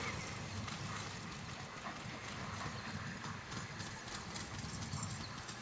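Horse hooves clip-clop steadily in a Metal Gear video game, a dense, continuous patter under wind-like ambient noise, moderately faint, with no talk.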